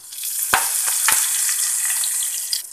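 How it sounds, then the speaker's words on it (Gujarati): Mustard seeds, cumin and curry leaves hit hot frying oil in a pan and set off a loud, bright sizzle, with a few sharp crackling bursts early on over a steady hiss. "હવે તેમાં રાઈ નાખીશું, જીરું, લીમડાના પાન"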